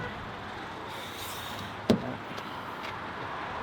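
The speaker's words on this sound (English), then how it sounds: "Doors locked." A car's door locks engage with a single sharp clunk, followed by a couple of faint ticks against quiet outdoor background noise.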